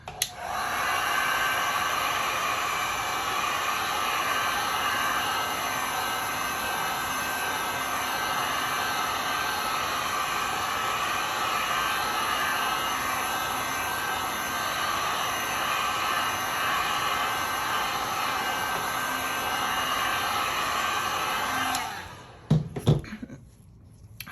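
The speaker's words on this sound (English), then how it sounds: "let me hit this with the heat gun and spread it out" A heat gun blows steadily on resin for a resin tray pour, a loud, continuous hissing roar that runs unbroken for over twenty seconds before cutting off, followed by a few faint knocks.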